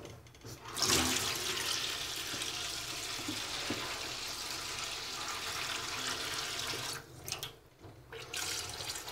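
Running water pours steadily into a clogged sink drain that will not empty, a continuous close rushing and gurgling flow that dips briefly near the end.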